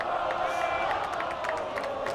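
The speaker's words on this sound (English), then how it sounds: "And the Hastings crowd here at Tartan Stadium is getting loud" The Hastings football crowd roars at Tartan Stadium during a late fourth-down play, a sustained wall of cheering with whoops and scattered claps, moderately distant.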